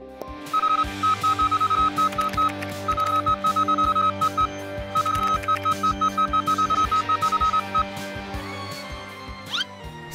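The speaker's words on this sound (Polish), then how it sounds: "Słyszeliśmy twój sygnał SOS." A cartoon SOS distress signal rings out as bursts of rapid, shrill electronic beeping, repeated in several long groups over a low sustained hum, loud and close with no talking.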